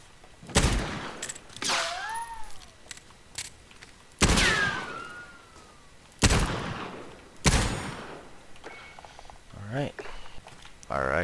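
Bursts of MP7 submachine gun fire in Call of Duty Warzone ring out in several loud, separated volleys, with someone talking between and over the shots.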